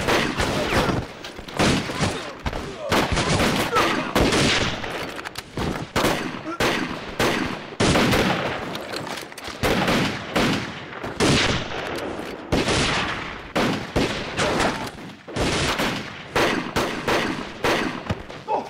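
A film shootout fills the scene with dense, loud gunfire, rapid overlapping bursts and single shots crackling almost continuously with brief gaps, close and harsh throughout.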